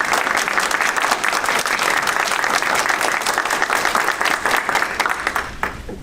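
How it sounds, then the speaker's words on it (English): A standing audience at a board meeting gives a dense, steady round of applause for a retiring finance director, the clapping loud and continuous throughout. "Please stand up and give him a round of applause."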